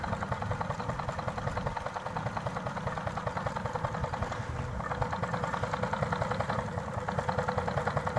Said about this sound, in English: Time to work the engine a little bit.